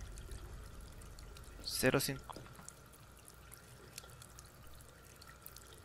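Water trickles and pours in the horror video game Layers of Fear 2, a brief louder splash followed by faint steady running water under low game ambience.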